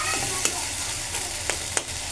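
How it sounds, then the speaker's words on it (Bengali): Roast spices being stirred and fried in a pan: a steady loud sizzle, close by, with several sharp scrapes of the stirring spoon breaking through it, and no talking. "কিছুটা রোস্টের মশলা দিয়ে আমি একটু কষিয়ে নিচ্ছি"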